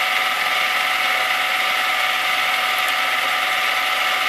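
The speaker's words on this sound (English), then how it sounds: "as I wind my counter springs up" A ratchet winds up the counter springs of a garage door with aluminum balls, producing a steady, dense, rapid clicking and whirring that holds an even loudness throughout, close up with no speech.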